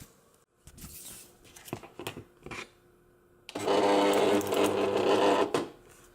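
A cutting mat is fed into a Silhouette Cameo cutting machine, with short mechanical whirs and clicks followed by a loud, steady motor hum of about two seconds, heard up close.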